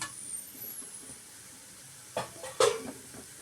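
Cooked rice being stirred into a fried carrot mixture in a pan, a soft quiet scraping that builds into two brief louder metallic scrapes and clinks of the spoon near the end, with no talk.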